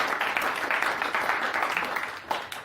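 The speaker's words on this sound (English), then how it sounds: "give me a round of applause, guys" Audience applause after a hypnosis demonstration, a dense burst of many hands clapping at fairly close range that holds steady for a few seconds with a few sharper individual claps near the end.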